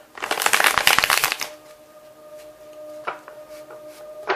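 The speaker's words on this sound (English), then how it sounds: "Alright, so we're going to start shuffling here." A quick riffle of tarot cards being shuffled, a dense burst of flicking and slapping, followed by a few softer taps and slides against a low background hum.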